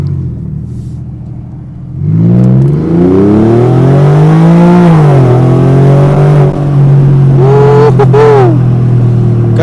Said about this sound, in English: you guys can hear that engine sound